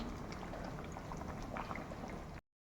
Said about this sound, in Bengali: বড়া দেওয়ার পরে আরও মিনিট তিনেক এটাকে একটু ফুটিয়ে নেব